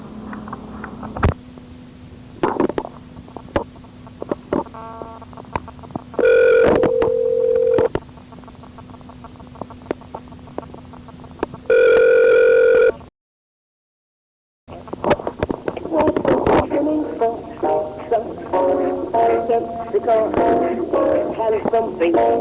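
A telephone rings on a recorded call: two long ring tones stand out over steady line hum and scattered clicks, with a short dropout of silence before muffled voices and line noise resume.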